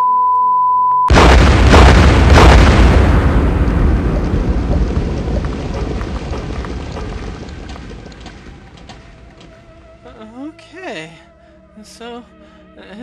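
Artillery shells exploding from a warship in a Minecraft airship physics game, with a loud sudden blast followed by a long rumbling decay, and whooshing game sounds near the end.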